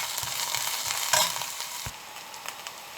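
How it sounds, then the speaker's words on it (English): Chopped green chilies fry in a pan for mutton or lamb liver kaleji masala, a steady close sizzle with a few soft knocks of a stirring spoon, no talking. "Add 2 green chilies, chopped green chilies, and fry for about a minute."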